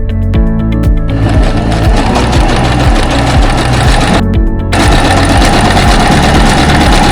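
A sewing machine stitches denim fabric onto a rubber sheet with a loud, close, rapid mechanical chatter that runs continuously, except for one brief break near the end before it resumes.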